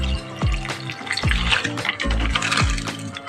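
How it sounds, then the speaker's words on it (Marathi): Bombil fish being washed in water with jowar flour, giving repeated splashes and sloshes at close range, with the same pattern recurring in a steady rhythm and no talking. "ज्वारीचे पीठ लावून आपण त्याला धुवून घेणार आहोत।"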